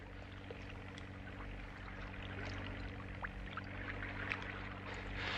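A patrol boat motor drones at a steady low pitch across the water, faint and distant under a constant hum, with no voices.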